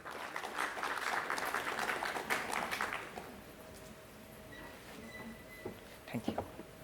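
An audience applauds a speaker at a technical talk, a brief, quiet round of clapping that tapers off within about three seconds, followed by low room noise, scattered handling sounds and a faint voice.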